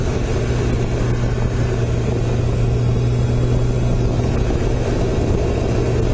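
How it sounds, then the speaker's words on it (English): Kawasaki ZG1000 motorcycle engine revving high at steady speed on a rainy ride in the dark, a constant loud droning hum with wind and road roar, continuous throughout with no talk. "It sounds to me like it's revving like crazy."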